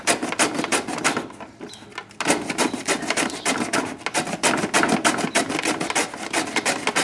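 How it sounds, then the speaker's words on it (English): Carrots and celery are grated on a mandolin with a fine grating attachment, making rapid, rhythmic rasping strokes close up, with a short slower pause before the quick scraping resumes. "I have to use my mandolin with this fine grating"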